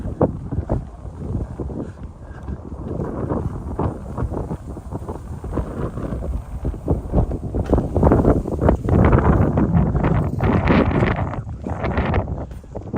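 Wind gusting through Kinuta Park in Tokyo, a steady broadband rush that swells and buffets the microphone, growing louder and rougher toward the end, with no voices.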